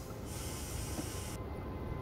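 A VIRM double-deck train running on the Midden Nederland route in Train Simulator 2014 gives a steady, continuous rumble with a constant hiss. There is no talk.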